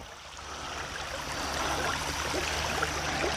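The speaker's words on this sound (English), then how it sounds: "creek sounds here" Low shallow creek water flowing steadily along a hiking trail, a soft continuous rushing that grows slightly fuller, with no voices.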